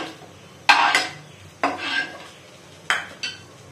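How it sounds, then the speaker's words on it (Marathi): Sautéed onion is scooped from a pan into a dish with three sets of sharp metal scrapes and clinks of a spoon against cookware. The strokes are close and spaced apart, with quiet between them. "मी आता हा एका डिश मध्ये काढून घेते"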